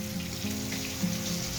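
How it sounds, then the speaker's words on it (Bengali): Prawns coated in salt and turmeric fry in a pan, giving a steady, close sizzle with a hiss and a low hum beneath it. "চিংড়ি মাছটা ভাজা বসিয়ে দিয়েছি নুন হলুদ মাখিয়ে এখানে।"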